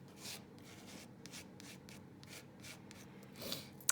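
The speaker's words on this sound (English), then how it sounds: "And then I'm going to scrape off the excess." Excess embossing paste is scraped off a surface in a series of quiet, rhythmic rubbing strokes, close and unaccompanied by any voice.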